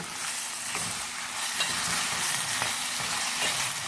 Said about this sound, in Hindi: चिकन को हमने प्याज और जिंजर गार्लिक पेस्ट में थोड़ा सा फ्राई किया है